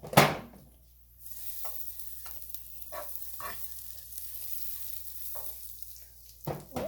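An omelette fries in a covered pan with butter, giving a soft, steady sizzle. A louder clatter comes near the start, and a few brief bursts of stirring or crackle follow before a final knock.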